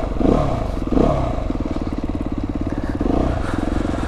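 Off-road motorcycle on a green lane in Surrey, its engine thrumming close by with a steady pulsing putter that swells slightly as it passes.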